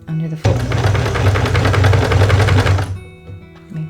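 A sewing machine stitches quilt fabric in a steady rapid run for a few seconds, close and fairly loud, starting and stopping abruptly, with a voice talking over it.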